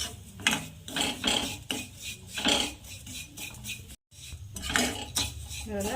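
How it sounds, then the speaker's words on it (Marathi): Vermicelli roasts in a kadhai for a spicy sevai upma, with a metal spoon scraping and clinking against the pan in irregular bursts, close and fairly loud, with a brief silent gap midway. "मी भाजतच आहे शेवया"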